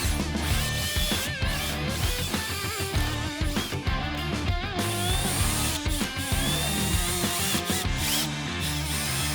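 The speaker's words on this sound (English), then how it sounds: "we're going to drill big because the dash mount's going to cover all of this anyways," A hole saw cuts a large opening in a Chevy Silverado or GMC Sierra dash, grinding and chattering close by in uneven, jerky bursts with ratcheting, stuttering bites throughout.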